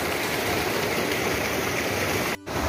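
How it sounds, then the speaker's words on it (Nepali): A mountain stream rushes under a small bridge in a steady, loud broadband wash of flowing water, continuous throughout with only a brief dip near the end. "अब चाहिँ हामी खोलामा आइपुगेको छौँ"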